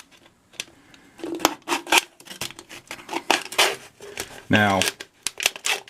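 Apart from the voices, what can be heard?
scissors cutting an aluminum beer can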